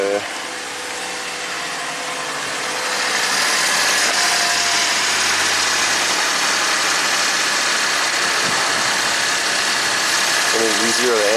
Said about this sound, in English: Fire up the car.